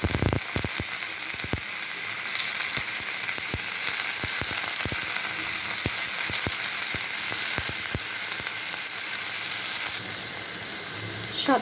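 Bitter gourd and onions fry in a pan with a constant sizzle, marked by many sharp pops and spoon clicks throughout. The sound is fairly loud and close, with no clear talking.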